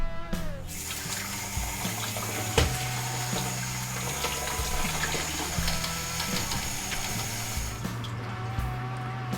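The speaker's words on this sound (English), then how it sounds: "I'm going to rinse my grains out like I did last time" Water pours and splashes steadily as brewing grains for brown ale are rinsed into a kettle nearby, a continuous rushing trickle with occasional clunks and a low hum underneath.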